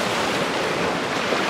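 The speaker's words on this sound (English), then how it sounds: "the waves" Ocean waves at Dinadiawan beach wash in as a steady, loud broadband roar of surf mixed with wind, continuous throughout with no clear individual breaks and no voices.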